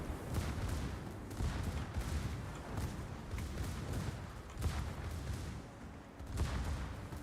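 Naval gunfire in a warship video game: repeated heavy booms and rumbling salvos roll one after another, loud and continuous, with no speech.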